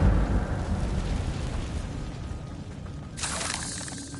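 The Incendio fire spell is cast in a video game as a loud roaring whoosh that fades, then a sharp crackling flare bursts in near the end.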